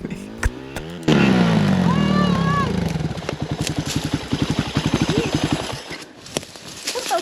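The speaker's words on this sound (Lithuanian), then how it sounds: "Tas motociklas." An enduro motorcycle runs during a hard enduro orientation event at Rukla, with the engine revving loudly and then settling into a steady idle that pulses rapidly, while voices are heard around it.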